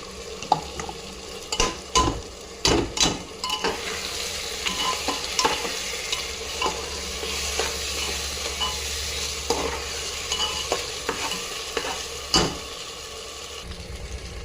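Onions frying with ginger-garlic paste for mutton kosha are stirred in a pan: a steady sizzle runs throughout, broken by sharp scrapes and clacks of the spoon against the pan at irregular intervals, with no talking.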